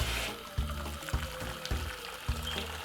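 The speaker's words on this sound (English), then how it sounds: "what I'm gonna simply do is pour water in it like this" Boiling water from a kettle pours into a pot of beans in short, repeated bursts, splashing and gurgling close by, with brief pauses between each pour.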